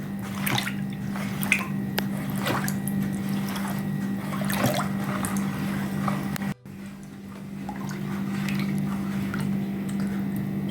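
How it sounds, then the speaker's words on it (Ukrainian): Sugar being stirred into well water in a bucket to make elderflower kvass: a continuous close sloshing and swishing of water, with small splashes and a steady low hum underneath. "Зараз потрібно гарненько розколотити, я так розумію."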